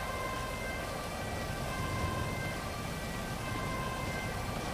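A siren from an ambulance in a GTA role-play game wails steadily throughout, holding a high, constant tone over a dense, noisy background, with no voices.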